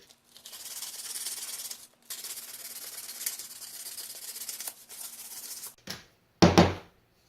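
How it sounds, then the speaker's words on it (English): A cheap knife handle being sanded with 120 grit sandpaper, steady close rasping strokes running for several seconds with brief pauses, ending in a couple of louder scuffs. "So this is 120 grit sandpaper."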